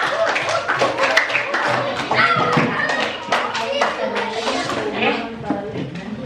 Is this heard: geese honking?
no